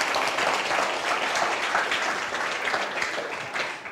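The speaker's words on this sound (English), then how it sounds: "Let's give them a round of applause." An audience at a talk applauds a group of helpers with sustained, full clapping from many people, holding strong before easing slightly toward the end, with no speech on top.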